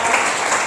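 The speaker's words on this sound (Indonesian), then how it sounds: "Tepuk tangan buat kita semua." A classroom audience claps together in a short, dense burst of applause that stays steady and loud throughout.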